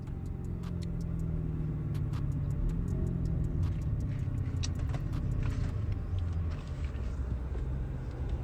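A car drives through traffic with a steady low engine rumble and road noise inside the cabin, with faint repeated ticking clicks above it and no talk.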